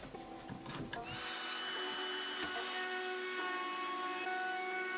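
A plunge router with a plunge bit spins up and holds a high, steady whine while working timber for a raised garden bed of railway sleepers, starting with a few knocks before the motor settles into an even tone.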